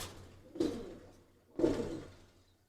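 Pigeons of fancy breeds such as Boga, Bezi, Bangabandhu and Rambo coo in a loft, giving two low, throaty bursts about a second apart, fairly close with faint background hum.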